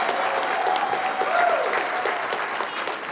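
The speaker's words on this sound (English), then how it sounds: "Let's give them a round of applause for being here tonight" A crowd at an evening political tour event in Chesapeake, Virginia applauds steadily and loudly, a dense wash of clapping with no pauses.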